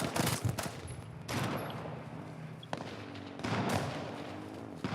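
Video-game gunfire and explosions crackle in rapid bursts, some loud impacts separated by short lulls, at moderate level in a busy action scene.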